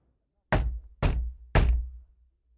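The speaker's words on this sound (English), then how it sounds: "Poole knocked on the door." Three firm, evenly spaced knocks land on a door, close and loud, each with a short, dull resonance and silence between them.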